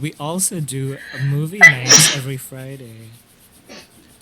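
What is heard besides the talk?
sneeze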